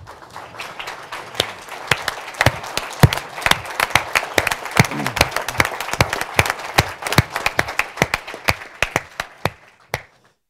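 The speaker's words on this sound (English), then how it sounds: "I'd like to give a round of applause to all of you who helped make these a reality" Audience applause at the opening of a greenhouse gas standards launch event, a steady patter of many hands clapping that holds for about ten seconds with sharper individual claps on top before stopping abruptly.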